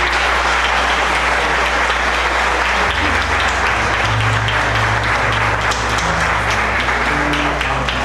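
Loud, sustained audience applause at a tribute concert to Colombian music by a university tuna group, many hands clapping densely throughout, with a low musical hum and tones underneath.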